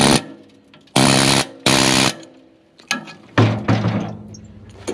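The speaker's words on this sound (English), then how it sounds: "just a regular air chisel applied to the bars, the grate bars, is a good start" An air chisel hammers in short, loud, rapid bursts against the grate bars of a Putzmeister concrete pump hopper, shaking debris loose, with several separate blasts and brief pauses between them.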